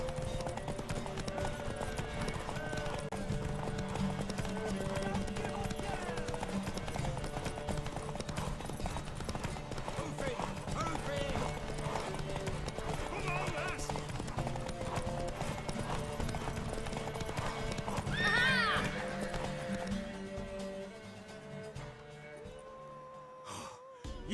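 A horse gallops in a race in Witcher 3, rhythmic hoofbeats pounding steadily with heavy breathing and snorts, a neigh near the end before the hooves slow and fade.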